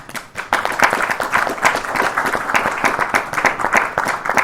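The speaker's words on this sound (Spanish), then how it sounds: "así que por eso un fuerte aplauso para ellos" A crowd at a book launch gives the honoured guests several seconds of steady, close applause.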